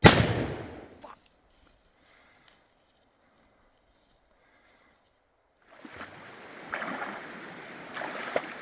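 A rifle shot at a sambar stag during a hunt rings out as a single loud, sharp crack at the very start, decaying into near silence before rustling movement and faint outdoor noise return.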